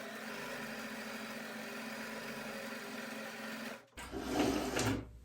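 A sewing machine runs steadily at its longest stitch length across fabric, a continuous even whirring hum at low level that stops abruptly near the end and gives way to a brief louder rustle.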